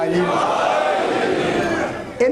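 A crowd at a Muharram majlis chanting religious slogans together, a dense sustained mass of voices filling the space at steady loudness, easing slightly before a sharp louder burst at the end.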